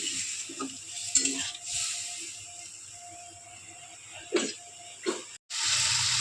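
Spice paste and shrimp being sautéed in a pan, with intermittent stirring scrapes and a soft sizzle, ending in a louder steady hiss.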